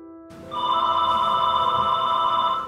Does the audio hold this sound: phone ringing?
yes